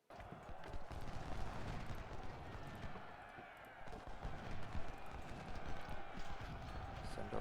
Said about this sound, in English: Send our horses in to help stabilize this.